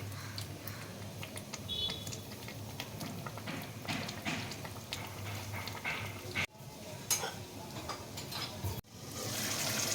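Shrimp cook with pumpkin in a bubbling curry in a pan, a soft continuous sizzle and simmer with light clicks and scrapes of stirring, fairly faint and without voices.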